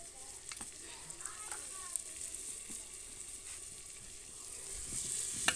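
Masala frying in a pan on a home stove: a close, steady sizzle with a few light stirring clicks, and a voice briefly audible in the background.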